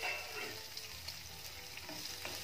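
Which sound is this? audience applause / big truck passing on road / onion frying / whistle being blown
onion frying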